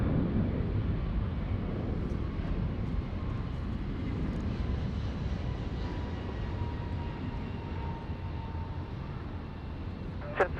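A jet airliner, an Airbus A321, roars steadily as it climbs away from runway 34 right at Sydney Airport at night, a continuous broadband engine rumble heard from a distance, with no talking.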